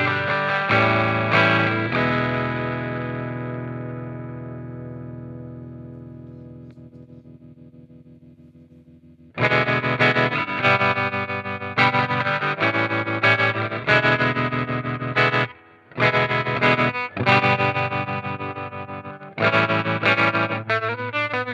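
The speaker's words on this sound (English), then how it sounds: "Let's try a beautiful, choppy, ambient trem type sound." A guitar played through a Fender wallet pedal gives a choppy ambient tremolo: a ringing chord first swells and slowly decays, then rapid pulsing chords stutter on and off in rhythmic bursts with brief gaps.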